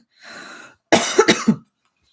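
A soft breathy huff followed by a burst of three sharp, close coughs in quick succession.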